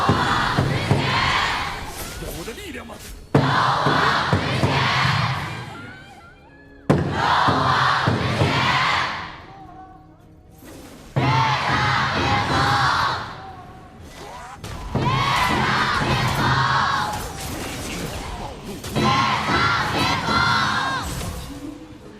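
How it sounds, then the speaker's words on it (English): A large crowd at the KPL Grand Finals esports knockout stage cheers and shouts in several loud waves, roaring bursts that swell and fade between short lulls, with a commentator's voice mixed in. "Let's hear them cheer."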